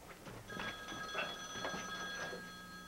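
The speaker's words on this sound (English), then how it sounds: "we have to answer the phone" A telephone rings with a steady electronic warble that sustains across the clip, heard at moderate distance against faint background noise, with no speech.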